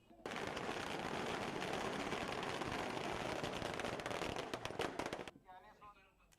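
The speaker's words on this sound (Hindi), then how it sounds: "पटाखे फूट रहे हैं" Firecrackers bursting at an outdoor BJP victory celebration on Dhanteras, a loud dense rapid crackling barrage lasting about five seconds before cutting off, followed by faint voices.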